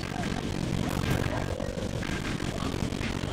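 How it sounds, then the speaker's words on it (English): A dense, roaring rotor and engine wash from an attack helicopter in Minecraft fills the space steadily, broad and noisy throughout with faint voices beneath it. "Why is that attack helicopter as high?"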